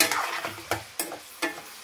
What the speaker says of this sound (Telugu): ఇవి వేగితే అంటే చక్కగా ఆయిల్ సపరేట్ అయిపోతుంది అనమాట